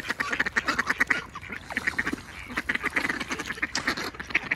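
Ducks quack repeatedly in a busy, overlapping chorus outdoors while being fed, the calls coming close and fairly loud in quick irregular bursts with no talking.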